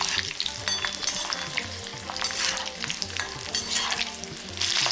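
Five small onions sauté in a pan for chammanthi, giving a loud, continuous close-up sizzle with crackling pops and stirring scrapes.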